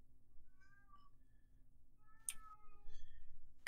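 A cat meows from outside a closed door, faint, thin, muffled cries scattered over a few seconds against a quiet background.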